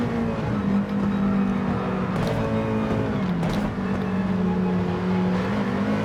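Nissan GT-R GT3 race car in Gran Turismo 7 at Sardegna, a steady loud engine drone with pitch dips and blips as it downshifts into a bend, continuous and close.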